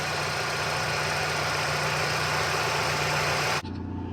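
An old car engine idles steadily with a smooth, even hum and faint rhythmic pulsing, close and loud, until it cuts off abruptly near the end.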